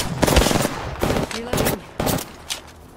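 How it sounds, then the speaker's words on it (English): Rapid bursts of automatic gunfire from the battle royale shooter Apex Legends, several loud volleys in quick succession with short gaps between them. "Getting shot at."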